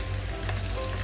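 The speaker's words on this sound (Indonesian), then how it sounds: "Tunggu butter cair" Butter melts in a hot pan with a continuous close sizzle and crackle, steady and fairly loud, ahead of cooking butter chicken.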